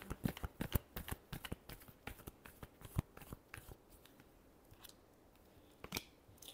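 Tarot cards being shuffled by hand in a run of quick, crisp riffling snaps and flicks, close and fairly quiet, with a lighter, sparser patch near the end.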